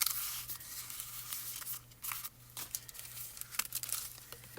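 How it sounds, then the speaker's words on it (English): Aluminum foil is crumpled and shoved aside on a card-making craft table. A close, continuous crinkling rustle with irregular louder crackles runs for about five seconds over a faint steady background hum. "Let me just get this freaking foil out of my way."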